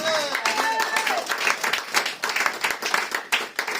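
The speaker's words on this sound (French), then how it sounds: "est-ce que quelqu'un peut acclamer pour Jésus?" A church congregation at a Sunday service bursts into applause and cheering for Jesus, dense clapping and shouts filling the room, fairly loud and sustained, with a few voices calling out among the crowd.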